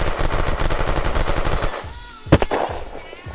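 Rapid machine-gun fire in the video game Unturned rattles in a fast burst for over a second, then a short pause and a couple of sharper isolated shots.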